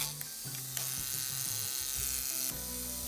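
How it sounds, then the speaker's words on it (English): An electric hair clipper hums steadily and close, its motor buzz broken by short clicks and rattles as blades are handled, with no talking. "I would recommend engaging blades while the clipper is running"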